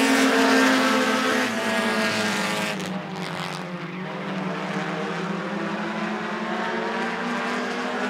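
Bandits-class race cars run close together at Rockford Speedway, a loud, dense engine roar that swells as the pack passes and then settles into a steady drone.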